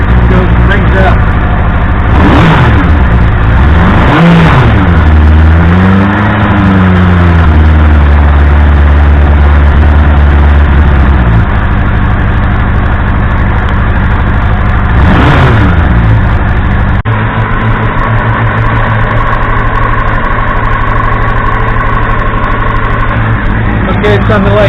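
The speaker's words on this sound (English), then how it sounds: "I'm going to rev it a little bit, see if it goes and brings up." Triumph Speed Four motorcycle engine idling steadily and blipped up in a few quick revs, loud and close, with someone talking over it at times.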